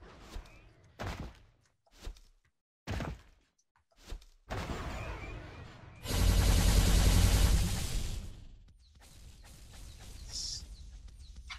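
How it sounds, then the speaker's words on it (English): Gunfire in the video game Escape From the Ship comes in sharp, separated bursts, followed by a longer, louder blast and then a quieter, rougher stretch. "Where is the shooting coming from?"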